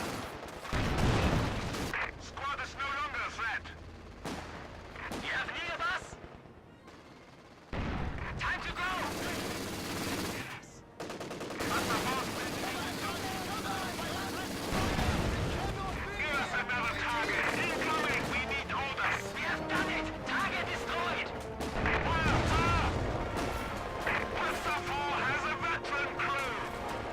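Artillery barrages and heavy gunfire from the Company of Heroes 2 strategy game, Wikinger Defensive doctrine, sound as booming blasts and bursts of fire. They repeat across the stretch, some loud and some more distant, mixed with unit voice lines and other battle noise.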